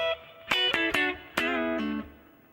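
Distorted electric guitar playing a short riff and barred chords from a song, several sustained, gritty notes and chords with abrupt stops, heard alone.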